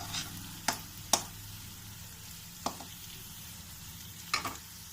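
Ginger garlic paste fried and stirred in a pan for a meal maker curry, a steady close sizzle broken by a few sharp spoon scrapes and clicks against the metal.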